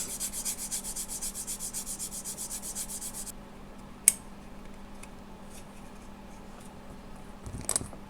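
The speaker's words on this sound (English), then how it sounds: "I'm just going to snip those off and sand that smooth" Plastic parts from a Tamiya 1/32 Mosquito model kit being sanded smooth in quick, steady back-and-forth strokes, then a couple of sharp, isolated snips as moulding is cut off, close and fairly quiet.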